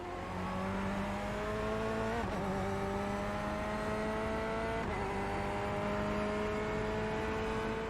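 A Corvette C8 race car engine in the iRacing video game drones loudly and steadily, its pitch climbing through gear shifts with brief dips, close and continuous throughout.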